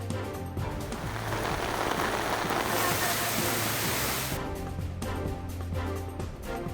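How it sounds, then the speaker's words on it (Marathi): Heavy monsoon rain pours down steadily in a dense, loud roar over Palghar district, India, with a voice faintly audible beneath the downpour. "पालघर जिल्ह्यात मध्यरात्रीपासून सर्वत्र पावसाची दमदार हजेरी"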